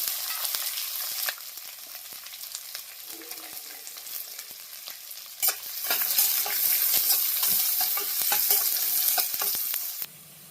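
Sliced onions, green chillies and curry leaves sizzle in oil in a pan, with frequent stirring clatter and scrapes; the frying grows louder midway and stays steady until a sudden drop near the end.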